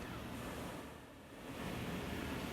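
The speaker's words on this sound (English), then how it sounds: "I'm not even blowing in the hose, I'm blowing at it." A person blows across a pressure gauge right next to the microphone, giving a steady, loud breathy rush of air that dips briefly and swells again.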